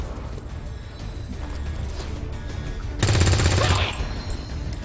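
Gunfire in XCOM 2: War of the Chosen, a low rumbling ambience that erupts into a loud, dense burst of shots lasting under a second, then settles back into the background rumble.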